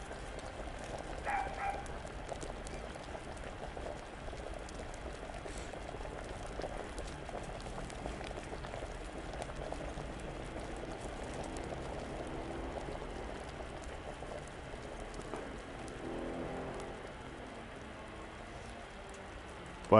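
A potion boiling during alchemy in Kingdom Come: Deliverance: a steady, soft bubbling simmer that runs continuously at low volume, with small pops scattered through it.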